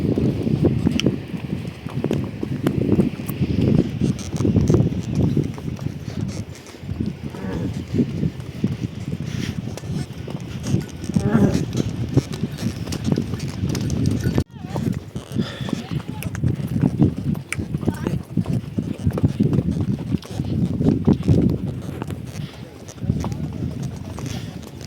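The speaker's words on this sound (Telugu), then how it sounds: "ఆల్మోస్ట్ వాళ్ళందరూ గుర్రాల పైన వస్తున్నారు" Horses carry pilgrims along the Amarnath Yatra mountain trail beside a glacier-fed river, their hooves clip-clopping in a steady, uneven patter close by, with people talking over it.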